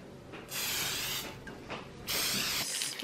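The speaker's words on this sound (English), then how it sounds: "I'm gonna spray it with this Mazola no stick corn oil spray" Two close hissing bursts of Mazola no-stick corn oil cooking spray onto a waffle maker, each lasting about a second, with faint clicks between.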